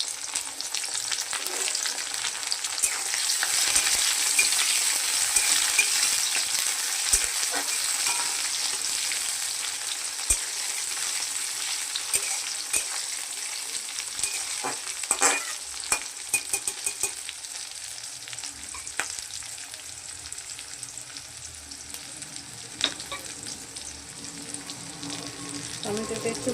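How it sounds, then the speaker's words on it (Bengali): Tomatoes fry in hot oil in a pan, a continuous bright sizzle with scattered scrapes and clicks from a spoon stirring, steady and fairly close throughout with no talking. "টমেটোটা একটু ভাজা হয়ে গেলে"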